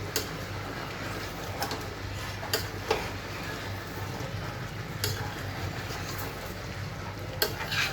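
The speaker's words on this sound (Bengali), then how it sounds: "তিন চার মিনিট পর ঢাকনাটা উঠিয়ে নিলাম জাস্ট একটু নেড়ে চেড়ে দেবো" Chicken curry in a pan is stirred after the lid comes off, with soft sizzling under a few sharp utensil clicks and scrapes against the pan.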